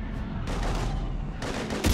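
Sustained gunfire in Mass Effect 3 during a firefight with husks, a dense, continuous rattle of shots at a steady level with heavier bursts near the end, and no voices over it.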